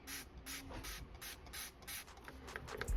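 Repeated quick spritzes from a pump spray bottle into water, about a dozen evenly spaced bursts, soft and close.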